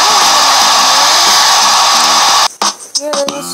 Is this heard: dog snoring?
no